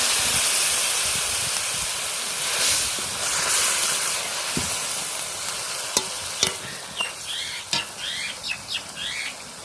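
Fried okra sizzles and hisses steadily in a pan as water is added, with a few short clinks and stirring taps toward the end, close and alone with no talk.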